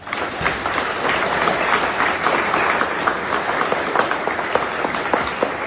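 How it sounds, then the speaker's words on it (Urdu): Sustained, dense applause from a large audience at a political event in Pakistan, loud and even throughout with crisp individual claps in the mix and no speech over it. "سب لوگ تالیاں بجائیں"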